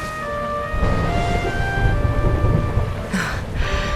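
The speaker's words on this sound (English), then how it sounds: "Would you look at it thundering away out there?" Low, continuous rolling thunder rumbles outdoors in Dragon Quest XI, with steady rain hissing throughout and a brief brighter crackle near the end; no voices.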